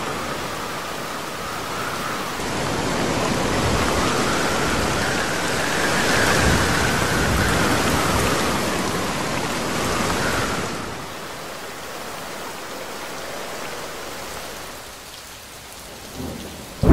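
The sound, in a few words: rain and thunderstorm in video game Jurassic World Evolution 2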